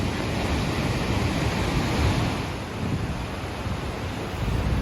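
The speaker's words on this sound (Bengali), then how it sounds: "দেখেন পানির তীব্রতা কি পরিমাণ" Steady, broadband rushing water roars continuously without a break, loud and close, from a powerful waterfall in Norway pouring nearby.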